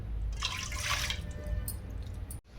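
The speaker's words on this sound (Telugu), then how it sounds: "ఇప్పుడు వాటర్ పోసుకుందాం ఒక గ్లాస్ పిండికి ఒక గ్లాస్ వాటర్" A glass of water is poured into a pan set on a lit stove for making chekodi dough: a short, close splash and gush of liquid, followed by quieter drips and a brief stop.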